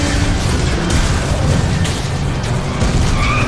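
Loud, dense booms and crashes from a gunship attack in the racing game Need for Speed: The Run, a continuous rumbling barrage with bursts layered throughout, no clear pauses between hits.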